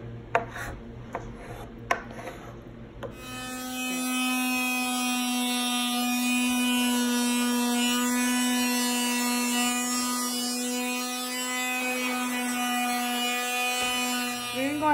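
A power sander working over weathered wood, starting after a few knocks and handling noises, then a steady, fairly loud buzzing hum that holds for over ten seconds with no talk.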